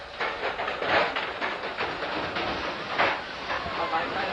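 A studio tour tram in Los Angeles rolls along its rails with a continuous rumbling clatter and hiss, moderately loud, with a faint voice talking underneath.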